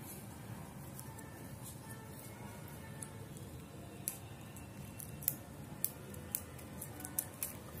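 Quiet snips of scissors cutting electrical tape while wiring a car stereo, several sharp close clicks in the last few seconds after a stretch of low background noise, with no talking.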